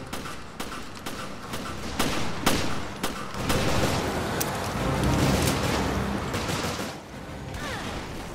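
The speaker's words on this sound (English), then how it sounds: "I'm using one of them rocket launchers." Rocket launcher fire in Resident Evil Revelations: several sharp bursts and thuds in the first few seconds give way to a sustained roaring rumble, loud and close.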